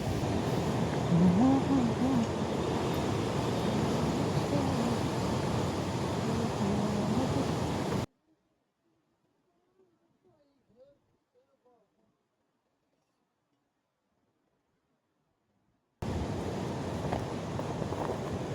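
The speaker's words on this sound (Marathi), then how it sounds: "खूप मोठ्या स्केलमध्ये प्रचंड वारं आपल्याला दरीतून वरच्या दिशेने येताना पाहायला मिळते" Strong wind rushes up from the valley at Panhala fort, a broad, steady roar with gusty texture that drops out completely midway, then returns just as loud.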